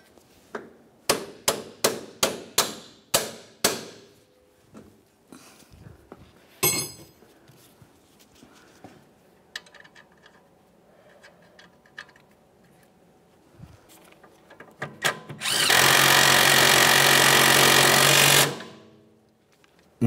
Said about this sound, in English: We'll start on the mounting nut and snug it up.